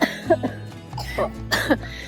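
A few short coughs close to the microphone, three rough bursts spread over two seconds with a low steady hum underneath.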